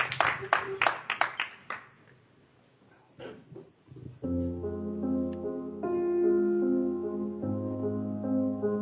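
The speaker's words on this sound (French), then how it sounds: "En tout cas, on peut l'applaudir." TV talent show audience applauding a singer, a few seconds of quick clapping that fades out before a piano and music begin.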